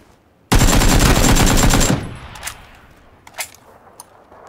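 Rapid burst of automatic gunfire in PUBG, loud and close for about a second and a half, followed by a few scattered distant shots with an SKS rifle around.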